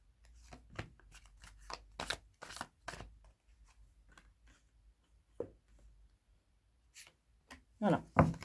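A Tarot of the Abyss deck is handled and shuffled close up, with a series of sharp card snaps and riffles separated by quiet gaps and a busier flurry at the end.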